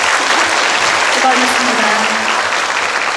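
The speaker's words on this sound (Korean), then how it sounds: "문경 시민 대표단분들께도 큰 박수 부탁드리겠습니다." Audience at a Mungyeong city mayor's town hall with citizens applauds the citizen delegation, loud sustained clapping filling the hall while a voice speaks briefly over it.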